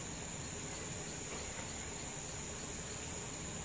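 Cricket chirping in a steady, unbroken high-pitched trill that continues without pause, with no voices over it.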